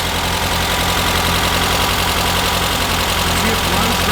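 A 2010 assembled street-legal sand rail engine idling, a loud steady low throbbing rumble close by with constant vibration throughout.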